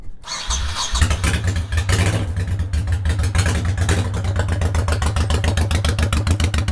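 A motorcycle fitted with Cobra drag pipes starts up and runs close by, its loud, choppy exhaust pulsing in a fast, steady rhythm after a brief cranking burst, with no voices.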